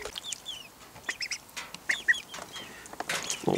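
Young ducks and hens in a suburban backyard flock give scattered clucks and chirpy calls, close and fairly soft, with brief louder squawks breaking through and no voices.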